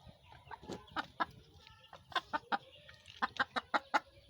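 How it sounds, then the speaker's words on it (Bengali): Desi laying hens clucking close by in short, irregular bursts of sharp clucks and cackles, with quiet gaps between and no talk. "এই মুরগিগুলো ভালো ডিম পাড়ে তার জন্য"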